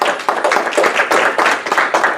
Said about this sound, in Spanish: Dale la gloria y el aplauso al Señor.